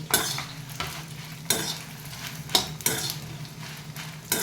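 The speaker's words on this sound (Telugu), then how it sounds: "వేడి చూపించి చిన్నపాయలు, చింతపండు కూడా ఎండుమిరపకాయలు వేసేద్దాము" Small onions, tamarind and dried red chillies fry in a hot pan for bitter gourd fry, a steady close sizzle under repeated metal spoon scrapes and clanks as the mix is stirred, with no talk.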